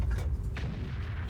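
A tank cannon fires in the World of Tanks video game, a muffled, low boom that rolls under a dense background rumble of battle noise.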